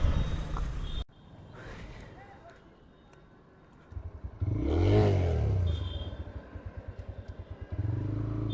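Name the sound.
TVS Raider 125 motorcycle engine running while shifting gears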